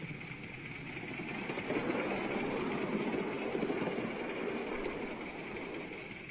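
A coal-fired steam locomotive pulling wagons gives a continuous, moderately distant rumbling roar with a steady hiss that holds for several seconds, with no speech.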